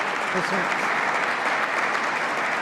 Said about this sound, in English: let's give them a round of applause for keeping our people safe